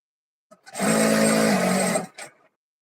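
Sewing machine running a single steady stitching burst of about a second and a half on a palazzo pajama seam, close and fairly loud, with brief handling clicks before and after.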